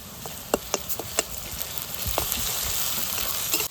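Ginger and garlic hit a hot pan of fried onions for mutton kosha, a steady close sizzle with a few sharp spoon clinks and pops early on, no voice.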